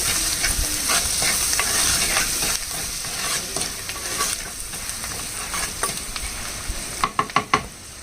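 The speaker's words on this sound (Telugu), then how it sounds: "ఇప్పుడు చక్కగా వేగించాలండి సాల్ట్ వేసాం కదా ఉల్లిపాయ ముక్కలు మెత్తబడతాయి" Sliced onions with salt and turmeric sizzling in a pan, stirred steadily with a spoon that scrapes the pan. The frying hiss is continuous, ending in a few sharp knocks against the pan, and no one speaks.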